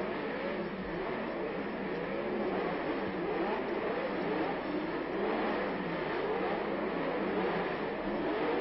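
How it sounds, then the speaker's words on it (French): 1963 Monaco Grand Prix racing car engines running together at the start, a dense steady roar of many idling and revving motors, loud and continuous, with muffled old-recording character. "les moteurs tournent"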